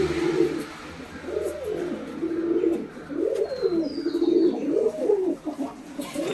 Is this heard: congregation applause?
no